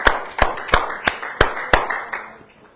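Church congregation clapping together in a slow, steady beat, eight or so sharp unison claps evenly spaced and gradually fading toward the end.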